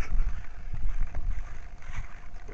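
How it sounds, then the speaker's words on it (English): Wind blows outdoors, gusting against the microphone as a steady low rumble that swells and eases over a few seconds, with no voices. "It's a little windy."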